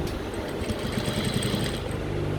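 A sewing machine top stitching a trouser seam runs in a steady, fast mechanical whir and patter, close and continuous, with no talk.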